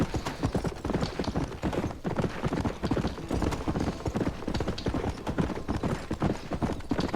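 Horse hooves gallop steadily in Red Dead Redemption, a dense, continuous clip-clop rhythm at moderate volume that runs unbroken for several seconds without speech.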